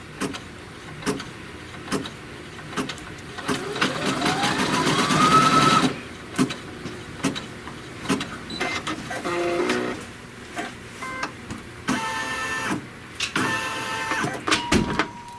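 An embroidery machine sews a trim line on green fabric, its motor winding up in a rising whir, then starting and stopping in short mechanical bursts of stitching and clicks, close and fairly quiet.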